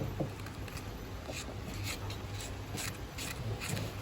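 Sandpaper rubbing over a rusty hand tool, a quiet continuous scratchy rasp with faint rhythmic strokes, close and alone.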